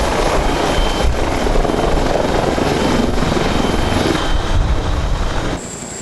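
A Marine Corps helicopter flies close by with loud, steady rotor thudding and a heavy engine roar that holds for several seconds before dropping off near the end.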